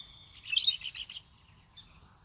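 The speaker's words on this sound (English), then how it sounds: "And these beautiful little birds that are surrounding me." Tiny wild birds chirp in quick high bursts close by in full sun outdoors, a busy cluster of tweets in the first second and a lone short call later, with no talking.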